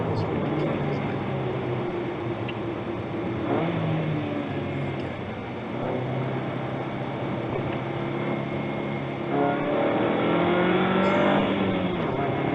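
Opel Speedster driven hard on a race circuit, the engine note a steady loud drone with pitch sweeps as it brakes and accelerates, heard from inside with some voice mixed in.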